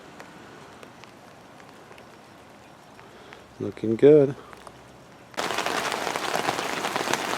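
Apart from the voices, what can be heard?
rain falling on an umbrella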